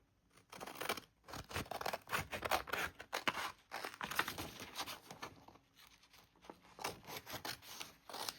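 Scissors snip and rasp through paper in quick repeated cuts, with crinkling and rustling, close up and fairly quiet, no voices.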